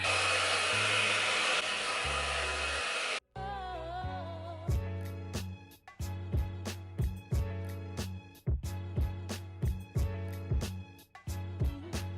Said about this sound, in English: I really like that it dries your hair